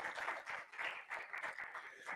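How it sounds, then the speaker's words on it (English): A live audience at an IT partner summit gives sponsor Acer steady, faint applause from a distance, a continuous patter of many hands clapping. "can we have a round of applause for Acer?"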